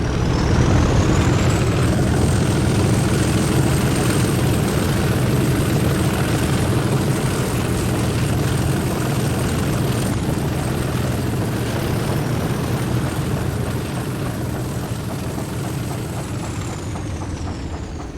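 A railhead treatment train, Free Juliet 40, pulling away from Gofflin: a loud, continuous engine drone with a high whine above it, steady throughout and slowly easing off toward the end, no voices.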